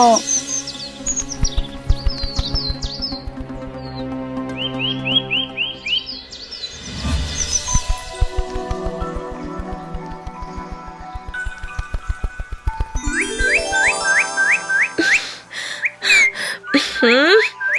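Cartoon songbird in an animated Bengali fairy tale, chirping and whistling in quick rising and falling trills, loud and close, with music and brief voices underneath.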